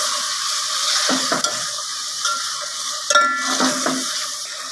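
Ginger garlic paste sizzling and frying in a pan, a steady crackling hiss broken by several stirring scrapes and clatters of a spoon against the pan.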